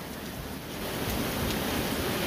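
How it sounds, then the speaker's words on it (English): Heavy rain pours outdoors as a dense, steady hiss that swells slightly, with no breaks and no voices. "Now it's raining heavily."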